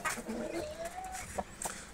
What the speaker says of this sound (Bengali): কালো টিপটাস মুরগি।